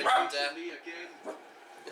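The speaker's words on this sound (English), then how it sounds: "I do apologise for the barking in the background" A pet dog named Henry barks a few sharp times in the background of a home setting while someone talks over England vs Scotland football commentary.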